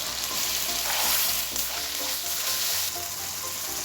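Marinated mutton with yogurt frying in a pan for mutton tahari, a steady close sizzle with some stirring, loud and unbroken throughout.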